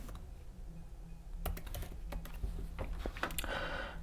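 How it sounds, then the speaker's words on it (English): Quick bursts of keystrokes on a computer keyboard, close and crisp, starting after a short pause and continuing in uneven clusters, with no one talking. "So just type in gradient"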